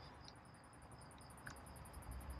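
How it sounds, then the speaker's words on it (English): Steady rapid chirping of crickets over a constant background hiss, high and continuous, with no voices. "There are crickets."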